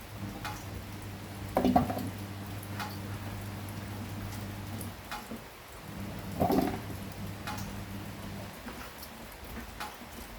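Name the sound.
rain falling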